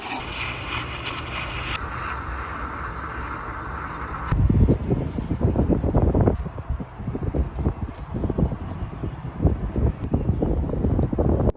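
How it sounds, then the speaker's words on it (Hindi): Strong gusty wind buffets a top-floor balcony, roaring and rumbling into the microphone in loud uneven surges, with a faint steady hum fading out early on. "देखो आप लोग कितनी जोर की हवा चल रही है"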